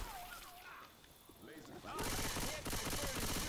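Gunfire in the Left 4 Dead 2 zombie game: quieter shots and talk at first, then a loud, continuous burst of rapid automatic fire filling the second half, with players talking under it.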